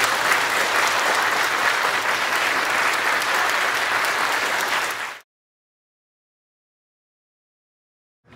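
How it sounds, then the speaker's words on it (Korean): A church congregation at a Korean Presbyterian pastor's installation service claps loudly and steadily in welcome for about five seconds, a dense wash of applause that cuts off abruptly into silence. "한번 인사하실 때 크게 환영의 박수."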